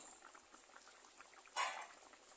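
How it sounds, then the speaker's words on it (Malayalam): Fish mappas curry bubbles at a low simmer in a covered pan, a faint, steady patter of small bubbles with one brief louder burst of bubbling midway, with no voices. "നന്നായിട്ട് തിളച്ച് നല്ല സൂപ്പറായിട്ട് വന്നിട്ടുണ്ട്"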